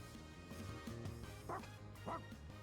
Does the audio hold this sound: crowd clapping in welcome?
no